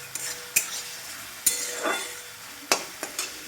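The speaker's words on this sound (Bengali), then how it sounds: "ক্যাপসিকাম ভাজতে ভাজতে সেদ্ধ হয়ে গেছে।" Salted capsicum sizzles in a frying pan while a metal spatula stirs it, giving several sharp clinks and scrapes against a soft, constant hiss at close range.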